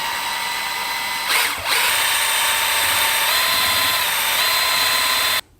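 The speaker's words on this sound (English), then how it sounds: "we're gonna mix this epoxy for 2 minutes with a drill and a paddle mixer." A power drill fitted with a paddle mixer whirs steadily while stirring epoxy resin in a bucket, a loud continuous motor tone that holds for several seconds with a brief dip near the start, then cuts off at the end.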